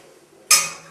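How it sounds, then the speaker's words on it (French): Metal pot and utensils clatter once as sauce is poured into a cooking pot of macaroni, a sharp close clank that rings and fades over a quiet kitchen background. "Je le mets dans cette marmite."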